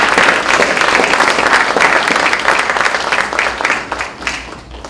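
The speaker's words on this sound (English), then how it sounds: "Let's give a big round of applause to Skylar Podby." Loud, sustained applause from the audience for Skylar Podby, a 14-year-old girls' ice hockey player, at a youth awards ceremony; dense clapping fills the room, then thins and fades toward the end.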